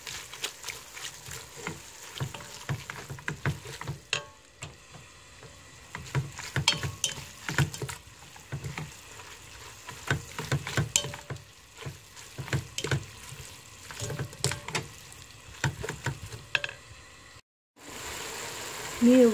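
Seaweed and beef stir-fry in a pot for seaweed soup, giving uneven sizzling bursts and clattering scrapes from stirring throughout, close up. A brief pause near the end is followed by a louder hiss.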